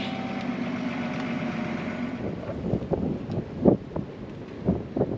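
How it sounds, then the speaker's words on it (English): Wind buffets the microphone outdoors with a low, steady rush that grows gustier, turning into sharp bursts of blowing noise in the second half. "Oh, dang it, it's windy."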